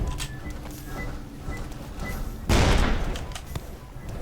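Rifle fire in the Roblox game Edward the Man-Eating Train, a dense burst of gunshots erupting midway and staying loud, with lighter game noise before it and no talk.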